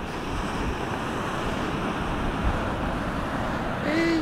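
Sea waves roll in as a broad, constant roar of surf mixed with strong wind buffeting the microphone, and a brief voice-like tone rises near the end.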